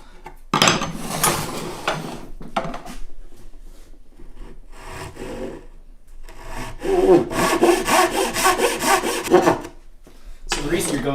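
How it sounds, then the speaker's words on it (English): A sharp chisel cuts through three wooden plies of an acoustic guitar body in a garage workshop, giving close, loud scraping and rasping strokes in two long bouts separated by quieter pauses. "Nice sharp chisel. Going through all 3 plies here."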